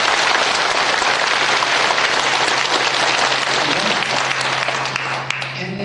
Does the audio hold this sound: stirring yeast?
no